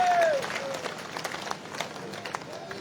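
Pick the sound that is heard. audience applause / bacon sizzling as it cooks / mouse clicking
audience applause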